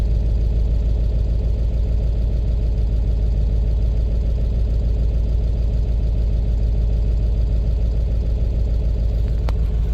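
A 1999–2003 Ford 7.3 Powerstroke diesel engine idles in a steady, continuous low rumble with no change in pace for the full stretch, close and fairly loud, with no voices.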